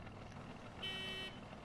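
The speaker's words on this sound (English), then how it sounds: "Typical car horn." A truck horn in the SnowRunner video game gives one short, steady honk of about half a second, sounding clearly over a low background engine rumble.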